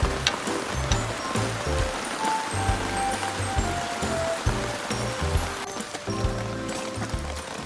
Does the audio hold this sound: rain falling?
yes